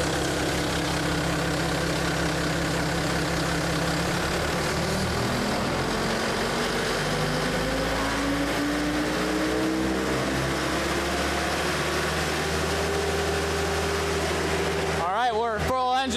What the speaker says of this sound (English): now I'm gonna rev it up and we're gonna swivel that conveyor back out